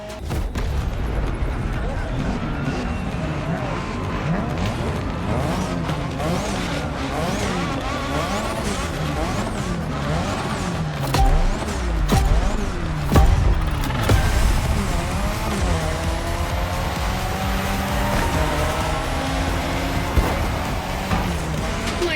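A Mazda RX-7 drifting in The Crew Motorfest racing game: a continuous rising and falling engine whine with tire screech and scattered bangs, with a voice speaking over it.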